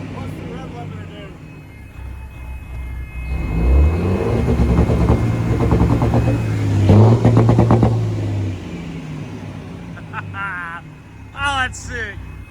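A 650hp cabover truck engine revs in loping swells, with an uneven, choppy idle rising and falling twice. Excited voices talk over and after the revs.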